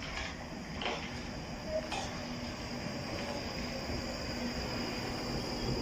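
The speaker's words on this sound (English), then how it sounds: "As you can see here coming down the track, we've got a train going to Morden Firebank." A Northern Line Underground train bound for Morden rolls into Woodside Park station, a steady low rumble and track noise building gently amid faint ticks and chirping birds, with no talk over it.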